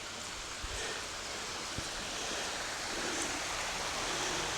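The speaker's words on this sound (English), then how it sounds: "There's another little waterfall there." Bridal Falls, a small waterfall about six feet high in Cuyahoga Valley National Park, gives a steady, even hiss of falling water, broad and constant with no voices over it.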